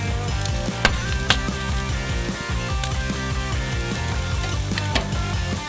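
Steak and vegetables searing in a hot pan give a steady sizzle, with a few sharper crackles, mixed under continuous background music.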